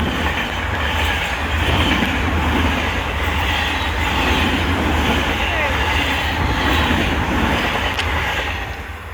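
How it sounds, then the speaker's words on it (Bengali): A large train passes very close on the railway line with a loud, sustained roar and rhythmic clatter of wheels, while a voice is partly audible under the din. "দেখো ট্রেন চলে এসেছে।"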